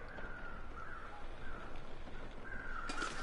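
Crows caw outdoors in a few scattered calls, fairly faint and distant over a steady wind-like background, with a sharper burst near the end.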